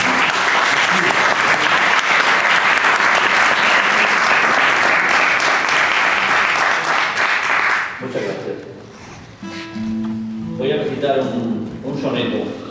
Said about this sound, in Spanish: Un aplauso y el agradecimiento para mí.